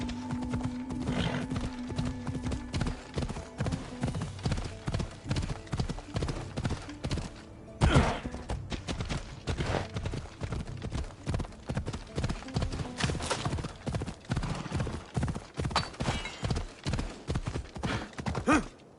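A horse galloping in Assassin's Creed Odyssey, rapid rhythmic hoofbeats pounding steadily and close throughout, with a brief whinny or snort partway and a faint voice now and then.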